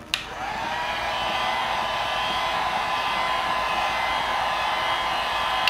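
A heat gun blows hot air onto the grille of a 2005–2010 S197 Mustang, producing a steady, loud fan-driven whoosh that holds continuously from start to finish, with a faint click at each end.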